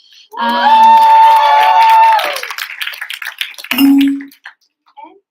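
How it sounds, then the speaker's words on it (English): An audience at an AIESEC in Greece elections gathering lets out long, high whoops of cheering, then a short burst of scattered clapping and a final loud shout before falling quiet. "she's a mastermind of elections, and of course, the applause"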